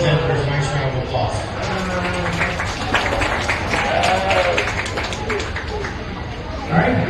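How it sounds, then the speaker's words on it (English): Crowd applause in the stands at a county fair sheep show, a broad continuous patter of clapping with chatter and babble mixed through it, steady and moderately loud. "Let's give him and those other kids that for a nice round of applause."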